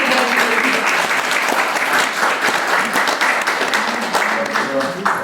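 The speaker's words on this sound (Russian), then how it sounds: "Ваши аплодисменты, дорогие" Dense applause from an audience at a Chuvash culture day gathering in Nalchik, loud and sustained clapping from start to finish with a voice briefly mixed in.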